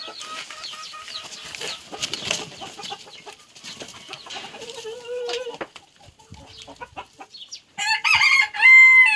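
Silver Wyandotte chickens cluck softly in a farmyard among scattered calls, and a rooster crows loudly near the end.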